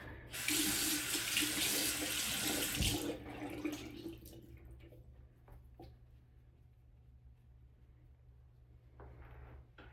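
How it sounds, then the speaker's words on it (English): Tap water gushes loudly into a sink for about three seconds to wet a napkin, then cuts off, leaving a quiet room with a few faint clicks and handling sounds. "Now I'm just gonna wet this napkin and just wipe it off a little bit."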